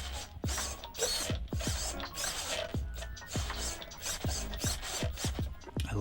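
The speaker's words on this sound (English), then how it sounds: "That Holmes motor is fantastic. Nice low end. Sounds good in there." Inside a model toy, a Holmes motor runs with a low-end, ratcheting mechanical whir and repeated clicking gear pulses. It is close, steady and continuous, with no talking.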